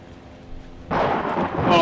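A sudden loud rumble of thunder from the horror game Outlast breaks in after a quiet stretch and rolls on heavily to the end.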